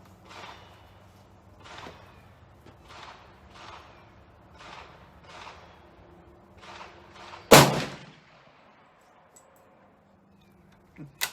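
A single sharp, loud Ruger American rifle shot fired with Federal non-typical ammunition rings out after a run of soft rhythmic ticking and shuffling, then fades into near silence.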